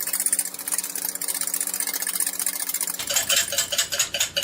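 A whisk beats an egg and water mixture in a bowl with rapid, rhythmic clicking that grows louder and sharper partway through, close and steady with no talking.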